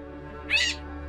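Gray catbird just taken from a ground trap gives one short, nasal mewing call, fairly close and clear against a low steady hum.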